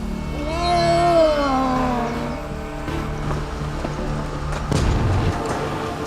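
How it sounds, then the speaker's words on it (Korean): Drawn-out meows and wails of cats caught in traps on an island, fairly close, with a rumbling engine and a clatter in the background. "고양이는 속속 포획망에 걸려들었다"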